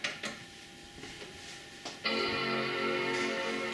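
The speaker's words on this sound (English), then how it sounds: "Chime straight off the bat, that's nice to hear." A bright, sustained electronic startup chime rings out from a G4 computer after a couple of soft clicks, steady and fairly loud, with no voices.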